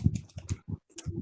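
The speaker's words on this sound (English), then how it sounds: "We can hear you typing." Keys on a computer keyboard clack close to a microphone during an online high school debate round, a quick burst of loud, uneven taps with a brief pause before a few more.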